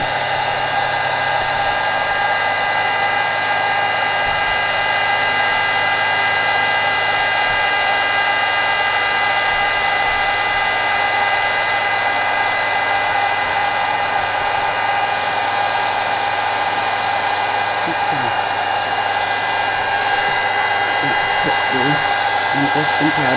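Heat tool melting embossing powder during crafting, giving off a loud, constant blowing whine and hum that holds unbroken throughout, with faint voices underneath toward the end.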